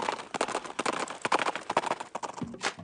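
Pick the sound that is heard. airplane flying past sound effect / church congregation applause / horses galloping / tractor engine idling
horses galloping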